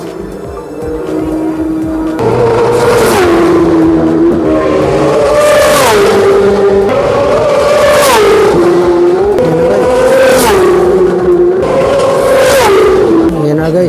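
Racing motorbikes at the Isle of Man race scream past one after another, several high-revving engine passes with rising and falling pitch, very loud and close, with no voices over them.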